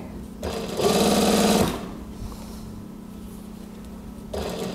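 An electric sewing machine stitches a zipper onto a dress in quick, close bursts of rapid mechanical whirring, a short run, a pause, then another run starting at the end.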